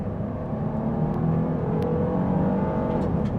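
A 2025 Kia Carnival LXS V6 in sport mode accelerates at about half throttle, its engine drone rising steadily in pitch under road and tire noise heard from inside the cabin.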